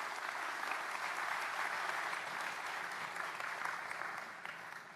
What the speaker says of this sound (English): Everyone give each other a round of applause for that.